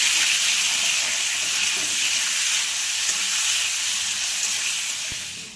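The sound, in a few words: potatoes frying in oil with salt and turmeric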